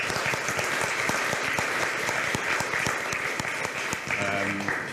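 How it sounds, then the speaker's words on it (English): A crowd at a games industry conference applauds steadily throughout, dense clapping close and sustained, with a few voices mixed in underneath. "So a round of applause for our board"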